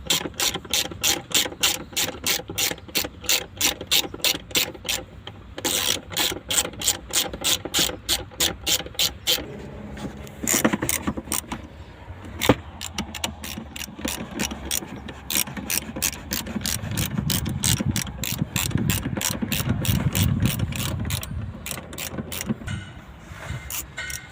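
A hand ratchet loosens bolts during a Porsche battery replacement, beneath the driver side seat, giving long runs of rapid, even clicks that are close and loud, with brief pauses and heavier turning noise partway through.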